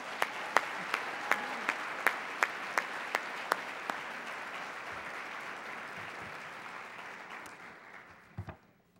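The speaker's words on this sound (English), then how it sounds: "Could I hear 800 people applaud him," A large audience of about 800 people at a university open house applauds, dense steady clapping with a few sharp, louder claps standing out near the front, fading toward the end.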